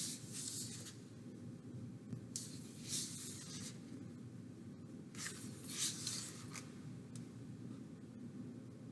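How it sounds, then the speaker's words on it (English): Wax crayon rubbed firmly back and forth across paper while drawing a snowflake, going over the same lines repeatedly; steady close scratchy strokes come in short bursts with brief pauses between them. "I'm going over my lines more than once, that's because I want my crayon marks to be really dark on the paper"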